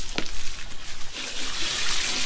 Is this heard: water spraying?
yes